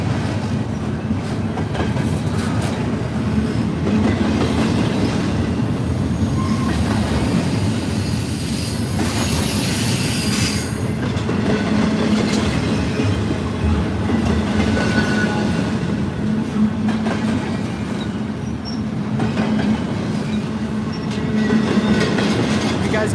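A freight train rumbles steadily past at slow speed climbing a hill on jointed rail in Lilly, Pennsylvania, with heavy low droning, rhythmic wheel clatter and occasional faint squeals, continuous throughout.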